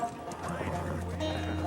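Horse hooves clip-clop at a steady walking pace, close by, with people talking over them.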